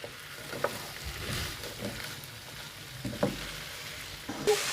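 Chopped capsicum is stirred into chicken jalfrezi in a hot pan, with quiet stirring scrapes over a low, steady sizzle, close up and without talking.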